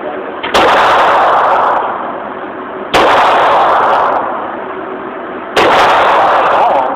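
Uzi submachine gun fired outdoors: three loud, sharp reports spaced about two and a half seconds apart, each with a long decaying echo tail.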